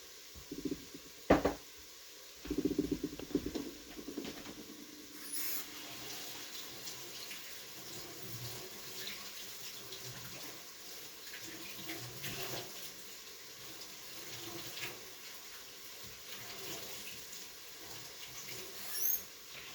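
Running tap water pours steadily over lentils being rinsed for soup in a kitchen sink, with a few louder splashes and clatters early on, then a continuous moderate stream.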